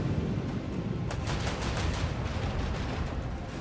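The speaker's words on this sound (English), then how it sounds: "Sigil class destroyer is going to shoot my torpedoes" A Sigil class destroyer fires a torpedo salvo in the Warhammer 40,000: Rogue Trader space game, heard as a dense, continuous rumble of booming fire with crackling bursts that peak near the middle and hold loud to the end.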